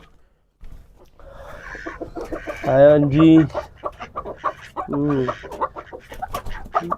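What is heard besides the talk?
chickens clucking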